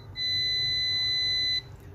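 A multimeter in continuity mode gives one steady high-pitched beep lasting about a second and a half while probing the charging circuit of a Huawei P20 Lite phone board, close and clear over a low background hum.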